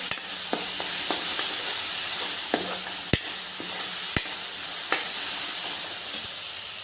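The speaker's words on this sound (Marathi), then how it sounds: "थोडीशी हळद आहे ती पण टाकते कांद्याला तेल फुटू द्यायचं" Onions frying in oil with turmeric give a loud, steady close sizzle, broken by occasional spoon taps and scraping against the pan, no voices.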